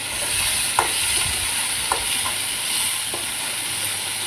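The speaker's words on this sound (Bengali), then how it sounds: "কোয়াশ আর আলু দিয়ে দিলাম, এগুলো ভাজবো এখন।" Squash and potato pieces fry in an oily pan, a steady close sizzle with a few sharp stirring clinks.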